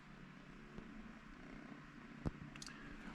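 A kitten purrs softly and steadily up close, a low continuous rumble at very quiet level, broken by a single sharp click partway through and a faint higher tone near the end.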